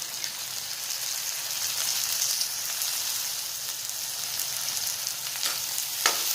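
Carrots and tomatoes fry in a pan as vegetables for a frankie filling, giving a continuous, even sizzle like light rain with a couple of faint stirring knocks, close and unvoiced.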